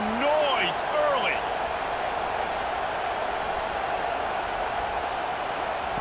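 Stadium crowd noise in the College Football 25 video game during a simulated Alabama vs Wisconsin matchup, a constant broad roar filling the whole stretch, with a commentator's voice briefly heard at the start.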